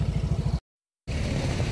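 A motorcycle engine runs close by with a low, throbbing idle, cut off by a brief stretch of silence before it resumes just as steadily.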